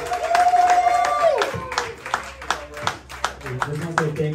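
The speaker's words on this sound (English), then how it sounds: "Give me a round of applause to everybody" Crowd clapping and cheering for participants after a donut eating contest at a donut shop in Chino, California, with a loud voice at the start and bursts of claps under ongoing talk.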